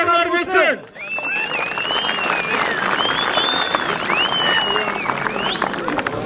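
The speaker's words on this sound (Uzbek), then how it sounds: "To'yxona nomidan bitta qarsaklar bo'lsin" Loud, sustained applause fills a wedding hall at a traditional wrestling event, with a crowd clapping and cheering steadily after a man's announcement over a loudspeaker.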